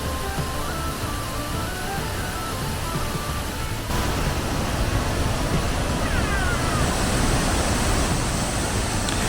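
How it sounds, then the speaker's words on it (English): Thundering waterfalls in a wooded valley of Glenariff Forest Park, a steady broadband roar of rushing water that grows denser and louder partway through, continuous with no voices. "takes you past thundering waterfalls"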